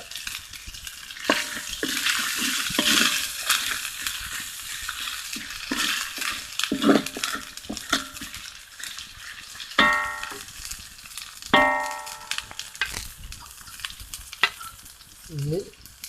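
Green chili, curry leaves and onion sauté in a pan for a Manchurian dish, a steady close sizzle broken by spatula scrapes and several sharp metallic clinks against the pan, with no speech.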